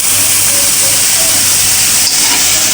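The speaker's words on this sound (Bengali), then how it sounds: "পেঁয়াজটা কিন্তু একদম আমি বাদামি কালার করে ভেজে নেব" Onions frying in a pan until browned give a steady, close sizzle and hiss with no talking over it.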